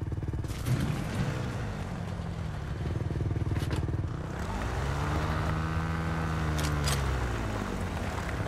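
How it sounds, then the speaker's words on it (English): A motorcycle engine in the video game Fortnite drones steadily throughout, rising and falling in pitch as the bike speeds along. "Daredevil on a motorcycle with a gun."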